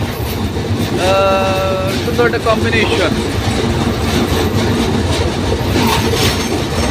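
A train rumbles past close by on the Jamuna Bridge at night, rhythmic clickety-clack and a brief squeal, loud and continuous, while a person talks over it.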